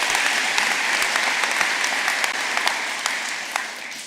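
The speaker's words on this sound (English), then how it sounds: "give them a round of applause." Steady, dense applause from a ceremony audience at a Montgomery County swearing-in, welcoming the speaker's family; loud, close clapping holds for several seconds and tapers slightly at the end.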